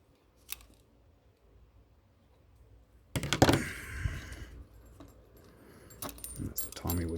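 Scissors snip away a loose thread while medals are mounted, with short metallic clicks and jangles close by, a quiet lead-in giving way to a busier stretch of handling noise and small sharp snips.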